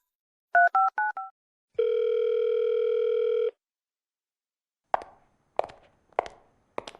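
Short telephone keypad beeps for dialing a call, then one long steady ring tone that stops. After a pause come four separate soft knocks or footsteps, with no voices.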